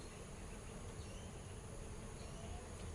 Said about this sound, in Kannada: ಇಲ್ಲೊಂದು ಜೇನು ನೋಡಿ ನಮ್ಮ ಟ್ಯಾರಿಸಲ್ಲಿ ಒಂದು ಶೀಟ್ ಇಟ್ಟಿದ್ದೆವು ಆ ಶೀಟಲ್ಲಿ ಬಂದು ಕೂತಿದ್ದೆ